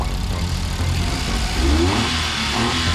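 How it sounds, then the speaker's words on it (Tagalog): A minivan's engine idles with the hood open, a steady, close, low rumble that rises slightly near the end. "Yan yung andar ng makina natin."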